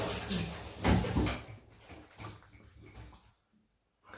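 Water splashing as a face is rinsed after a razor shave, a few close sloshing bursts that taper off into quiet.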